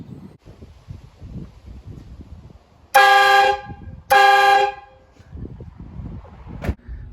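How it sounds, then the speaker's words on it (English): Two loud, sustained blasts from an aftermarket train horn fitted to a Dodge Ram truck, each about a second long with a short gap between, sounding after heavy rain over faint background rumble. "I recommend the train horn."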